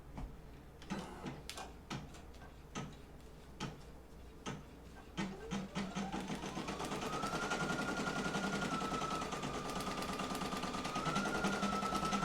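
Embroidery machine with a repositionable hoop stitching out a green section of a design, starting with a few separate clacks before settling into a steady, continuous mechanical whir with a rising tone, close and alone.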